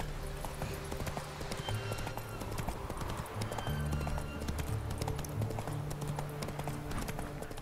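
Horse hooves clip-clop steadily in The Witcher 3 game as the mount is ridden, a rhythmic trotting beat with occasional whinny-like tones over game music and ambience.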